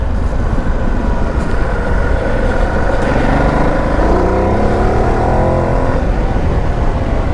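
A Ducati DesertX motorcycle engine drones loud and continuous while riding off road, its pitch rising and falling as it revs, over steady wind rush with no talking.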